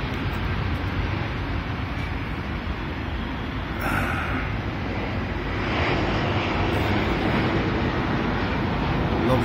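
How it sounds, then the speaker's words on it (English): An aeroplane passes overhead outdoors under open skies, a faint broad roar of engine noise mixed with light wind that swells slightly toward the end. "Oh, there's an aeroplane, hang on."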